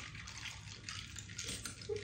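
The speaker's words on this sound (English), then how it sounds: "this is the kettle with the water. It's not hot." Cold water pours from a kettle in a home kitchen, a short gurgling trickle heard up close, with people talking quietly around it.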